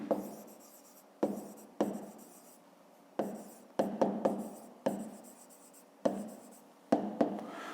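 Pen strokes on paper during a fifth-grade math lesson, a series of close, crisp scratching bursts with short pauses between, quiet and alone.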